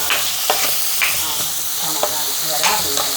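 Green chilies, ginger, garlic and curry leaves frying in a pan for a masala curry, a steady hissing sizzle with scrapes and clinks of a spoon stirring every half second or so, close and continuous without talk.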